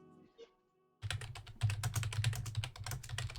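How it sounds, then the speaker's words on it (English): After a quiet second, fast, steady clacking of keys on a computer keyboard starts up close and continues in a busy rhythm. "I'm just typing some stuff out real quick"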